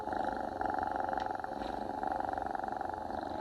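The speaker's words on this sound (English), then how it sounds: "The power of the purr. The sexy, sassy purr." Deep, rumbling purr of a jaguar, steady and rhythmic with a pulsing throb, heard alone and close.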